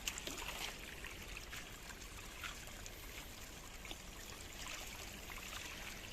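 Clear spring water flows out over a concrete bridge, a steady faint trickling and gurgling wash that holds at an even level throughout.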